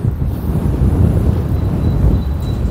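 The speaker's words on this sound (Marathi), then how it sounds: "तुम्हाला वारा किती आहे ना समजत असेल." Strong wind buffets the microphone in a loud, continuous low roar while fishing outdoors, steady and rumbling throughout, with no voices.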